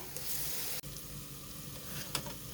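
Garlic frying in hot oil in a home kitchen pan gives a soft, steady sizzle with a brief dropout and a few small clicks of stirring, faint and without talk.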